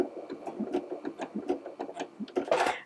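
A sewing machine stitches in short, rhythmic bursts of quick mechanical ticking during free motion quilting, close and fairly quiet, ending with a brighter rattling burst.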